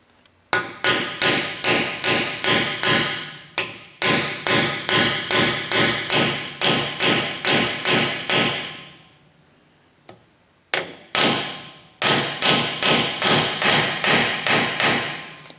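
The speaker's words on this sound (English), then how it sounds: "when you're driving in a seal, you hear it bottom out. You can actually hear it, you can feel it. It's like a thud, so you know you're in" A hammer strikes a seal driver, driving a seal into the rear axle of a 1970 Chevy truck: long runs of sharp, evenly spaced metallic blows up close, separated by short pauses.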